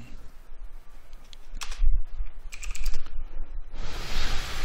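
Typing code on a computer keyboard, a close run of quick key clicks with irregular rhythm and a few heavier strokes, ending in a hissy burst.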